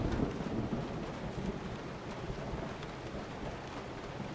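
Distant thunder rumbles low and steady under continuous rain in the Resident Evil 7 video game, a dense wash of storm noise with no clear individual claps and no speech.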